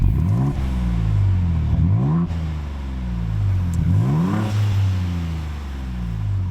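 A Ford Bronco Raptor's engine and exhaust rev repeatedly, low rising-and-falling surges in two main pulls separated by a brief dip, loud and close with no talk over it.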